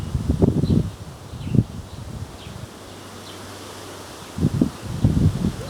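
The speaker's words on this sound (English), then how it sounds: "the wind is crazy" Strong outdoor wind buffets the microphone in low, rumbling gusts, with a calmer lull in the middle before more bursts.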